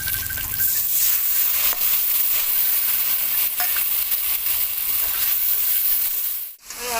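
Spices with ginger paste, cumin, chili and turmeric sizzle loudly with potatoes in a hot pan while being stirred, a continuous hiss with scraping strokes that drops out abruptly near the end.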